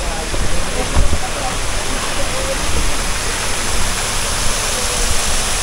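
Water from a natural spring at a roadside bathing resort pours in a steady broadband rush, loud and continuous like a small waterfall, with no clear speech over it.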